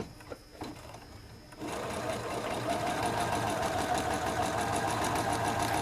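A sewing machine starts up and runs steadily, stitching along the edge of a flag, a fast, even mechanical whirr and clatter close by after a brief quiet moment with small handling sounds.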